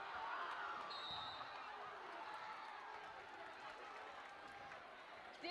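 Basketball dribbled during a teacher-student game in a school gym, the bounces blurred under a constant roar of crowd noise and cheering, with voices in the mix.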